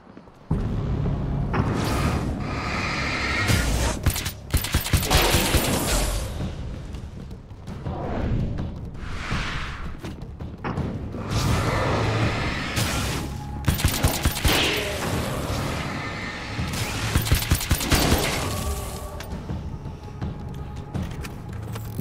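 A nail gun firing in the game Alan Wake's American Nightmare, rapid volleys of sharp cracking shots in repeated bursts over a loud rumbling backdrop of combat, sustained and close.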